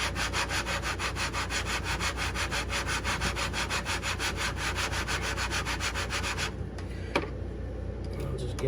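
Rifle scope rings are lapped with a lapping bar, giving a close, continuous gritty scraping in fast back-and-forth strokes that stop near the end, followed by a single sharp click.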